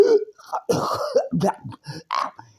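A few rough coughs and throat-clearing bursts in quick succession, close and fairly loud, with short gaps between them.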